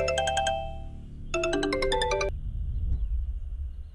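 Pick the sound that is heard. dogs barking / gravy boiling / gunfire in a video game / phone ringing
phone ringing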